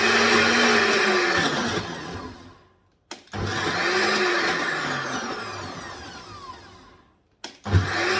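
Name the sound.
blender chopping okra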